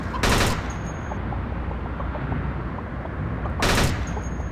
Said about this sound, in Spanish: Es un arma de ráfagas de 3 tiros, güey